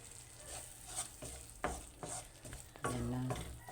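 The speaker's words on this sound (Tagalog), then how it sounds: "Halo-halo din para mag-absorb yung mga lasa." Spaghetti tossed with cheese is stirred in a pan, soft scraping and low sizzling coming in uneven strokes, quiet and close, with a louder scrape near the end.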